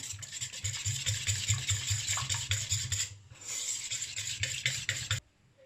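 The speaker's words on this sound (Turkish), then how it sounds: "Tuz ekledim ve yoğurdumu güzelce önce bir karıştırıyorum" Steady scraping and swishing of a utensil stirring thick yogurt with salt in a bowl, continuous and close, ending abruptly.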